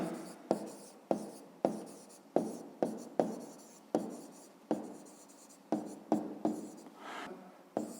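Pen or pencil scratches across paper while a fifth-grade maths area problem is written out by hand, a run of short strokes with sharp taps between them, close and steady with no talk.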